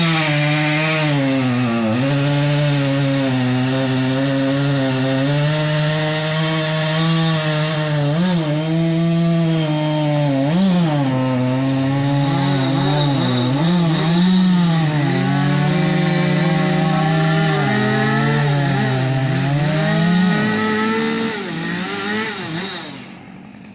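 A chainsaw cuts dead tree stumps down lower to the ground, its engine loud and close, droning steadily with repeated rises and dips in revs as it bites into the wood, then trailing off at the end.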